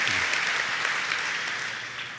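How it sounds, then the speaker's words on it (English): Sustained crowd applause played as a podcast break, a dense, loud wash of clapping that fades slightly toward the end. "Let's take an applause break."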